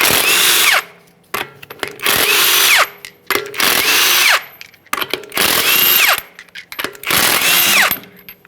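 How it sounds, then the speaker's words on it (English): Impact gun zipping off 22 mm lug nuts from the front wheel of a 2007-2013 Acura MDX in a repair shop, five loud close bursts of whirring and hammering separated by short pauses. "go ahead and remove the wheel by removing all 5 of your 22 millimeter lug nuts"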